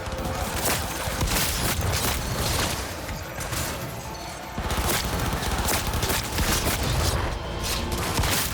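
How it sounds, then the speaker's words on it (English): Shotgun blasts in Cyberpunk 2077 during an indoor firefight, loud booming reports amid dense crashing combat noise, with a brief dip before the chaotic barrage picks back up. "Shotgun getting things done"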